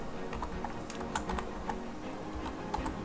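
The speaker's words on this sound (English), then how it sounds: "we're going to go ahead and type in convert" Rapid clicking of keys on a computer keyboard, a steady burst of close, quiet keystrokes at an uneven rhythm while entering code in Visual Studio 2010, no speech.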